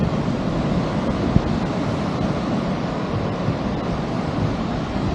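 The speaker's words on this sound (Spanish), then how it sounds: "Mira el mar." Ocean surf on a beach on the Argentine coast near Necochea, a steady, loud wash of waves mixed with heavy wind rumble against the microphone, with no talk.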